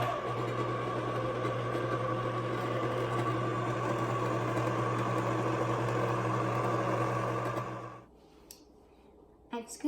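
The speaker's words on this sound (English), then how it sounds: "Make sure your blender is on low speed when doing this" A blender runs on low speed mixing shortbread cookie dough. The motor gives a steady, droning hum that is moderately loud for about eight seconds, then cuts off and leaves a few faint clicks.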